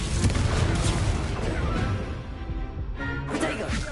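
A Confringo explosion spell cast in the Hogwarts video game: a loud, rumbling blast with crackling debris that fades briefly, followed by a second sharp burst near the end.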